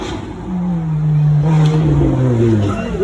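A car fitted with a 3.9 litre Rover V8 making around 260 horsepower drives past at Beaulieu, its low, steady burble rising and then easing away over about three seconds, loud and close, with a voice briefly audible underneath.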